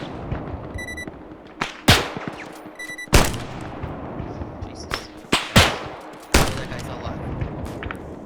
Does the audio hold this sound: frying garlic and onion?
no